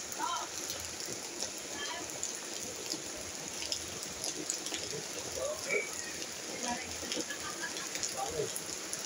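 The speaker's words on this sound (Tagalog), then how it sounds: "Ayan, lakas ng ulan." Heavy rain pours on a muddy road during a rainy Christmas, a steady hiss of drops with scattered splashes and patters, at moderate level.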